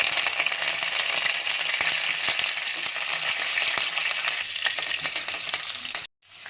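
Curry leaves frying in hot oil, with fenugreek seeds already in the pan, give a loud, steady crackling sizzle that runs unbroken until it cuts off abruptly near the end.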